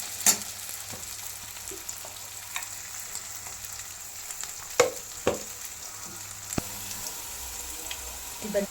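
Potatoes frying in a pan after a light sprinkle of salt, a steady close sizzle with sharp clicks and scrapes of stirring scattered through.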